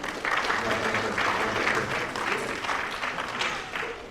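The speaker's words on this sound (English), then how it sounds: "Everybody give him a round of applause" Sustained audience applause fills a conference hall at an Islamic community event, a steady dense wash of many hands clapping at close range with no talk over it.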